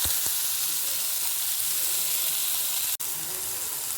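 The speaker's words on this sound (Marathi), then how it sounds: "आता आपण थोडं नळग्याला फ्राय करूया" Chopped nalge (ivy gourd) frying in a pan with turmeric and salt makes a loud, steady sizzle close by, with a couple of brief clicks and a sharp break near the end.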